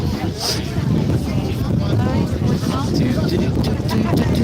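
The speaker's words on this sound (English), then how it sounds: "Oh man, it's so windy." Strong wind buffets the microphone in a constant, loud rumble at an outdoor protest at the BBC Scotland building, with a voice speaking faintly through it.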